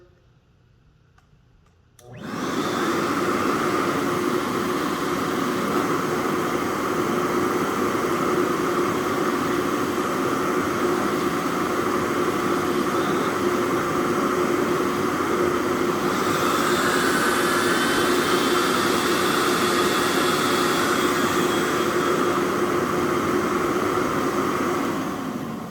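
A MetroVac Evolution canister vacuum with its turbo hand brush switches on after a quiet moment and runs as a loud, steady roar with a high whine. The pitch rises slightly partway through, and no one speaks.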